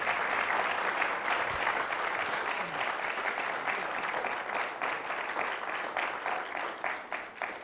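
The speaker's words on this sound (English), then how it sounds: "How about a round of applause for our speaker today?" Press club audience giving a round of applause to the speaker, full steady clapping close and loud, thinning and tapering off toward the end with a few voices underneath.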